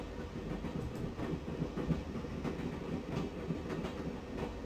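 A train rolls along its rails in a scene from the adventure game The Shadow of the Templars, a continuous low rumble with a steady clickety-clack of wheels and occasional rattles, sounding close and even.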